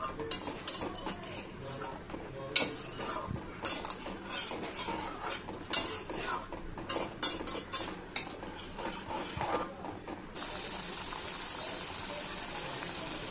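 Prawn malai curry with milk is stirred in a pan, a spoon clinking and scraping against the metal in irregular bursts with a faint bubbling underneath and birdsong in the background toward the end.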